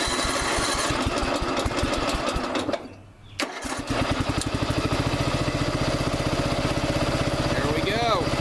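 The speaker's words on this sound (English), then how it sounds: "Let's fire it up after I set the park brake." A riding lawn mower engine cranks and catches after a brief pause, then settles into a loud, steady, close idle with a rapid even chug throughout.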